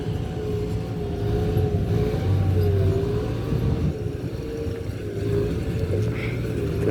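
A farm tractor drives steadily along a hardened dirt road, its engine holding a continuous low rumble and drone with slight pitch wavering throughout.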